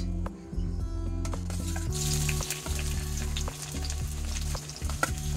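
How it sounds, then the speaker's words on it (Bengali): Onion frying in hot oil in a kadai crackles steadily and close by, the sizzle swelling brighter partway through over a constant low hum. "এবার তেলের মধ্যে দিয়ে দেবো পেঁয়াজ"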